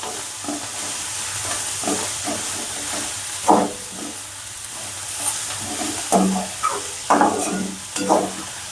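Methi bhaji, fresh fenugreek greens frying in a pan with turmeric and coriander-cumin powder, stirred in irregular scraping strokes over a steady sizzle and steam hiss, with several louder spoon clanks near the end.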